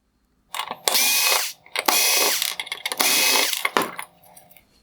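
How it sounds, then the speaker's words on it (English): A power screwdriver backs T20 Torx screws out of the black bezel on a 2016–2019 Mercedes-Benz GLS550 LED headlight projector, three loud close whirring bursts of about a second each, separated by brief pauses and clicks. "I will begin disassembly of the outer projector by removing the T20 torque screws holding on the black bezel."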